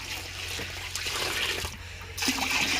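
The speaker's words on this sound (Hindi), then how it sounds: "अब इसके अंदर पानी और ऐड कर लेते हैं एक बार।" Water pouring steadily into a bucket, a continuous close splashing and rushing that shifts slightly in tone as the flow changes.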